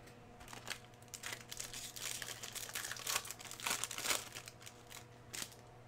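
Crinkly packing paper is crushed and torn from baseball card packs, close and continuous, with several louder crackling swells and short tearing bursts between quieter rustling.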